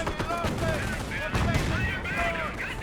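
Gunfire crackles in a Company of Heroes battle between Panzer Elite and US forces, with a 250 half-track under fire; dense, steady shots and bursts run throughout, mixed with game voices and effects.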